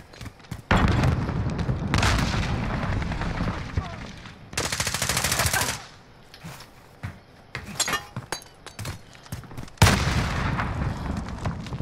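A video game grenade explodes amid bursts of gunfire, with loud booms and rattling volleys interrupted by short pauses.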